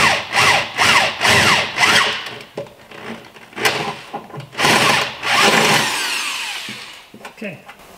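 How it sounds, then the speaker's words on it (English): A power drill with a size Q bit cuts holes in a car body with the tire removed, close and loud. Repeated grinding bursts start and stop in an uneven rhythm, with pauses between them. "Always make sure what's behind what you're drilling."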